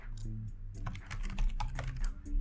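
Keys on a computer keyboard are typed in a quick, uneven patter of close clicks for a couple of seconds, over a low steady hum, with no talking.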